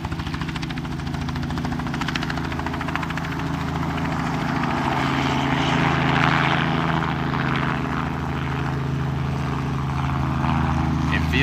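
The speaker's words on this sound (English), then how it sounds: "That's a chartered helicopter." A chartered helicopter flies close overhead, its loud rotor chop and engine whine steady throughout, with a voice speaking faintly under the roar.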